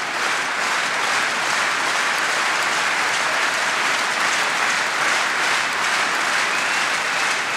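A crowd applauds steadily and loudly throughout a table tennis match between Japan and Germany at the 2012 World Team Championships in Dortmund, with dense, unbroken clapping filling the whole stretch.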